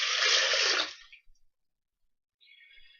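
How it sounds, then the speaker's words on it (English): Water poured in a rushing splash for about a second onto blended peas during a home pea DNA extraction experiment, then silence with a faint trickle near the end. "Now, when you're adding water, do not add warm water."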